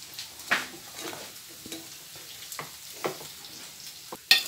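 Fried tuna pieces being stirred into pickle masala in a pan, with soft intermittent scrapes and light sizzle spread across several seconds, close and fairly quiet.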